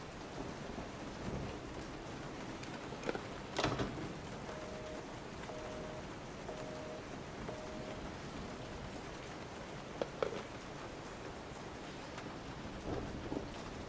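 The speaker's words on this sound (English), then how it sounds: "And it's raining and nighttime." Steady rain falls through a nighttime scene in Resident Evil Biohazard, with a sharp, close thunderclap near the start and fainter rumbles later, all with no talking.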